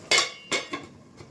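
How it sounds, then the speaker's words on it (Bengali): A metal lid comes off a pot of mochar ghonto, a banana-flower and rice dish, with two sharp close clanks followed by a couple of fainter clinks. "ঢাকাটা তুলে নিচ্ছি।"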